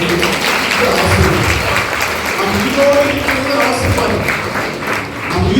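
An audience at a Tamil Christian retreat at the Logos meditation centre claps in sustained, dense applause from a crowd indoors, with a voice speaking over the clapping.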